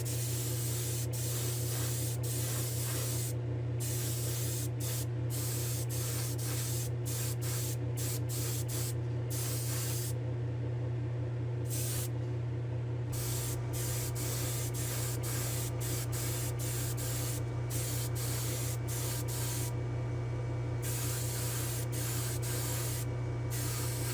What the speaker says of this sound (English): I'll meet you in the spray booth for a clear coat